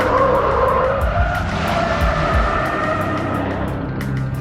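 A car screeches its tyres in a staged chase, a loud close engine roar with repeated skidding squeals swelling and fading across a few seconds, no talking.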